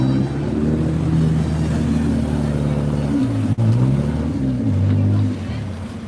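Boat motor rumbling steadily as the craft pulls into the dock at Tom Sawyer's Island, a loud, close, low drone with shifting pitch and a brief dip midway.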